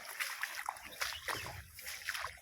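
Rainwater runs and splashes through green grass outdoors after monsoon rain, a faint, uneven sloshing and trickling with small surges, heard up close.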